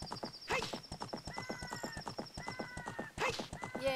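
Horse hooves clip-clop at a steady trotting rhythm in The Legend of Zelda: Ocarina of Time, mixed with game music and the horse's whinnies.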